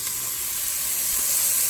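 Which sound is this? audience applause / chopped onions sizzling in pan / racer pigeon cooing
chopped onions sizzling in pan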